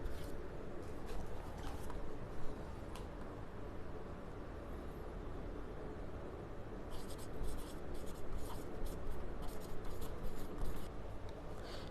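Marker or chalk writing on a classroom board, with soft scratchy strokes and taps scattered over steady background noise, louder bursts of stroking toward the end.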